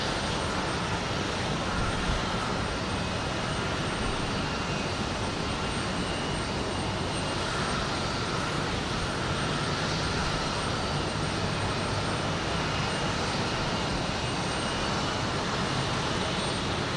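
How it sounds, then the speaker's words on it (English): A Spirit Airlines jet taxis into its parking spot at Houston Intercontinental airport, giving a steady, continuous broadband engine roar at moderate distance, unbroken throughout with no talk. "Comes another Spirit plane into park."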